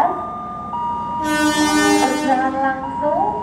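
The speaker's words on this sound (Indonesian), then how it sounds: "Berjalan langsung kereta api Serayu dari stasiun Jakarta Kota tujuan air stasiun Purwokerto." A Serayu passenger train passes through a station, its rumble and wheel noise swelling loud and close over a steady tonal hum, with a sustained hiss and squealing tones.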